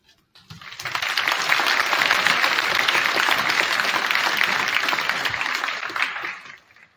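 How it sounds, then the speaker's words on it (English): An audience at a community hometown heroes awards event breaks into sustained, dense applause that swells quickly, holds steady for several seconds, then tapers off. "give it a huge round of applause for the AG Foundation"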